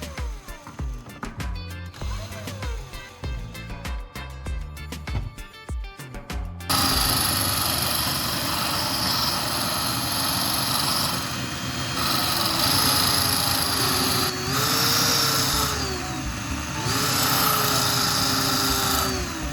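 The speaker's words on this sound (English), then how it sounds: "Next, I'm going to grind down the remaining tip of battery core." A small handheld rotary grinder works down the remaining tip of an old battery's carbon core, whining steadily with a few rising and falling pitch shifts after a stretch of unrelated background music.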